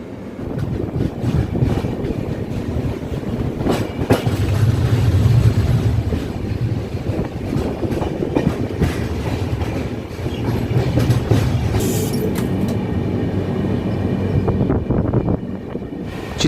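A JP–YPR superfast express on the Vasai to Yesvantpur run rumbles steadily along the rails, loud and continuous, with rhythmic clickety-clack over joints and wind buffeting the microphone throughout.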